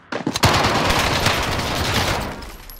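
Gunfire in the video game Call of Duty erupts as a dense, loud burst of rapid automatic shots that runs for a couple of seconds before tapering off, with no voices over it.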